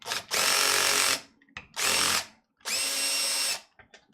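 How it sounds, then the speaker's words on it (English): Electric screwdriver or drill unscrewing a part during a PC build: three close, loud whirring bursts of about a second each, separated by short pauses with small clicks. "I will also have to unscrew this temporarily"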